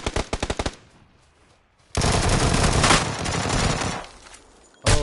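Automatic gunfire in PUBG: a quick burst of rapid shots, a pause, then a long sustained loud volley and a final short burst.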